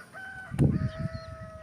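Birds call in the morning at Magat Dam, giving thin, sustained whistled notes and a short burst of fowl-like clucking, moderately close in open air.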